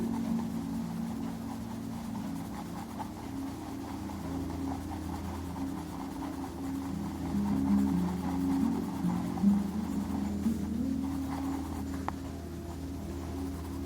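A sharp black cherry colored pencil shades a first light layer on paper with a soft, continuous scratchy rasp, close and quiet over a low steady background hum.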